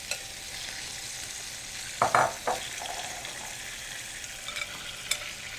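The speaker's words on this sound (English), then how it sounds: "I'm going to add our peppers and onions in and let them start to cook." Peppers and onions cooking in a pan for burritos, a steady close sizzle broken by a short burst of stirring and scraping near the middle.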